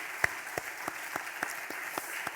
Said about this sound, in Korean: 다시 한번 우리 찬양을 통해 영광을 받으신 하나님께 박수로 영광을 돌립니다.